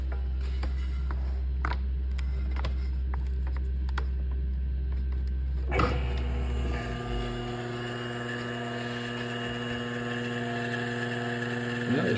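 A blower motor, just fitted with a new capacitor and a replacement blower wheel, starts after being plugged in, changing from a low hum to a steady mechanical whir with a rising tonal whine, running continuously and close by.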